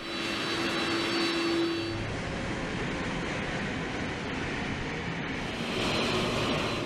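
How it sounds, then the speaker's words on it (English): A presidential Air Force One jet aircraft sends out a loud, steady engine roar that fills the air continuously, with a slight shift in tone partway through. "Eisenhower took the presidential aircraft to the jet age in 1959"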